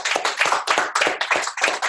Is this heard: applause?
yes